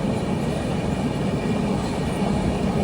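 A Navyug Express passenger train runs, heard from inside a sleeper-class carriage as a continuous, even rumble of wheels on track with a dense rattling texture.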